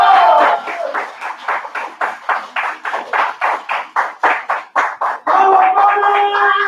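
Rhythmic group clapping at a free cocktail-making master class, a steady run of sharp, evenly spaced claps over faint tonal music, loud and close, fading into sustained tones at the end.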